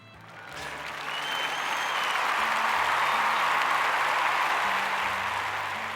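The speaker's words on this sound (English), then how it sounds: "I got an applause after that" An indoor audience breaks into applause that swells over the first second, then holds as a dense, even wash of clapping for several seconds before easing slightly.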